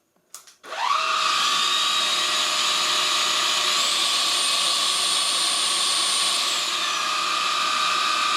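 A JASHEN V16 cordless stick vacuum cleaner, 25.2V and 350W, switches on after a few clicks and whirs up quickly to medium speed, then holds a loud, steady high-pitched motor whine close by, with a slight pitch shift midway.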